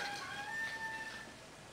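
A faint, distant rooster crow, thin drawn-out calls heard over a steady background hiss.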